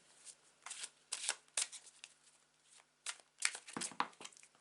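Tarot cards shuffled by hand in bursts of riffling and sliding, with short pauses between each run, close and fairly quiet, with no talking.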